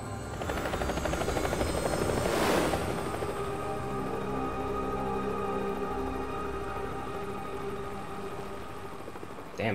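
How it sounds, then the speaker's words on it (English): Helicopter rotor thrum in the Metal Gear Solid 2 video game, loud and sustained, with a brief bright whoosh early on and then a steady chopping drone with tonal engine whine. "I kind of forgot that Otacon's in the chopper."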